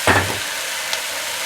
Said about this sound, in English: We're going to saute this for 6 to 7 minutes.